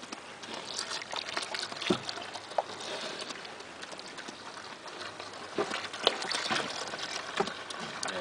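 Water poured onto pig feed in a pig pen, a steady close trickling and splashing with a few louder sloshes and no talking.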